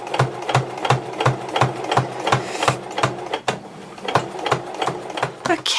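A sewing machine runs top stitching around the edge of a quilted tablet cover, with close rhythmic mechanical thumps in a steady pulse that pauses briefly and then resumes.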